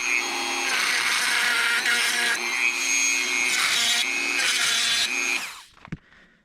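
A power tool cuts steadily into the plastic, epoxy-sealed housing of a Toyota MR2 SMT sensor, grinding continuously for about five seconds with brief dips before stopping, followed by a single faint knock.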